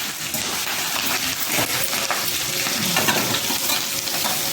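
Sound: cumin and chillies frying in oil

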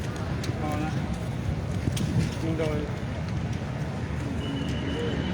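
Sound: strong wind blowing

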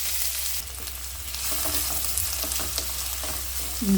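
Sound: onions frying in oil

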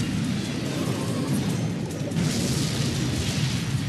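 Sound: rocket spell explosion in Clash Royale video game

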